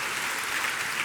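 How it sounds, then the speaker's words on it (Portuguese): A congregation at a Projeto Vida church service breaks into a brief salvo of applause, a steady, even wash of many hands clapping together with no voices rising above it. "Dá uma salva de palmas bem alto por essa palavra"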